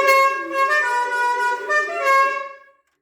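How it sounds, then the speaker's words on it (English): Air horns fitted on a Leyland tractor give a loud, steady multi-tone blast of about three seconds that cuts off cleanly at the end. "fitted some air horns,"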